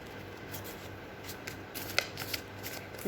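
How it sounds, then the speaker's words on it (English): A sheet of colored paper being folded by hand for a DIY card, with soft crinkling and a few sharper creasing rustles, quiet and close, no talking. "We will take another color of sheet and we will fold it like this."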